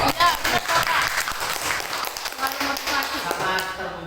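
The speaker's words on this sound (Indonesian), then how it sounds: "Tepuk tangan." Audience at an Indonesian talk bursts into dense, steady applause lasting about four seconds, with voices and cheers mixed into the clapping.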